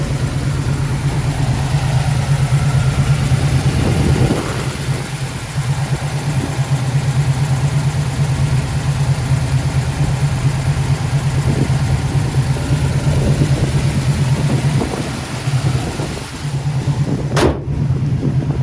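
A 1975 Pontiac Trans Am with a 455 V8, shaker hood and dual exhaust, idling steadily and loudly at close range with a deep, even rumble throughout and no talk.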